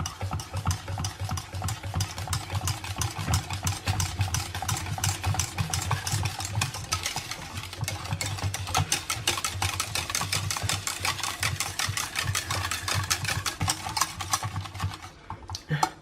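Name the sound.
whisking Greek yogurt into chocolate pudding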